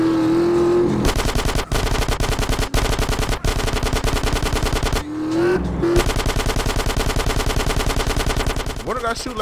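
Rapid automatic gunfire from GTA San Andreas rattles almost nonstop in loud, dense bursts, with brief pauses and a few vehicle engine whines mixed in.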